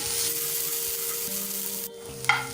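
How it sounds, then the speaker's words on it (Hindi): Black chickpeas being stirred into masala frying in a pan, a steady close sizzle with scraping stir strokes, briefly dropping quieter before a sharper clink of the spoon near the end. "इसमें डाल देंगे हम ये काले चने। मिक्स कर देंगे अच्छे से।"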